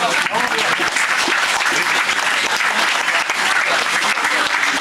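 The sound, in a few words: audience applause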